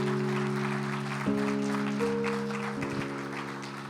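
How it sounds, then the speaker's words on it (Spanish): In a church service, the congregation gives the Lord a loud round of applause, steady crowd clapping under sustained organ or keyboard chords that shift partway through. "le dan un fuerte aplauso al Señor en esta hora"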